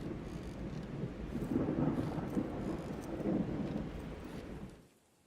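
Looping stock thunder and rain in a video game give a steady hiss of rainfall under a long, rolling rumble of thunder, swelling midway and then cutting off abruptly at the end.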